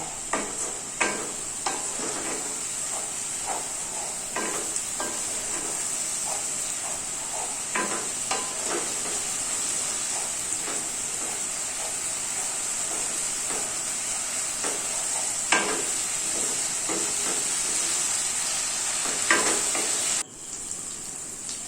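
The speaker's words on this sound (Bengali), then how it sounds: "এরপর আমরা মশলাগুলোকে ভালো করে কষাবো" Whole spices, chilli paste and chicken sizzle in a pan for a spicy Bengali chicken curry, with a steady frying hiss and scattered scraping stirs from a utensil throughout, no talking.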